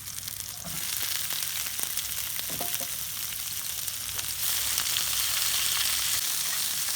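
Cauliflower and capsicum fry in a pan with a steady, even sizzle that holds throughout, broken by a few soft clinks and stirring scrapes.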